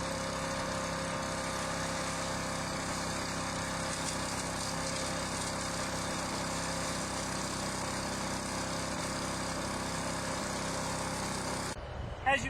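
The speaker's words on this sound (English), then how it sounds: "That's our 4 horsepower Honda unit to shred up some of this material" A Honda 4 horsepower CSV 2540 chipper shredder runs steadily, shredding pine cones with a constant loud engine drone and grinding, then cuts off abruptly near the end.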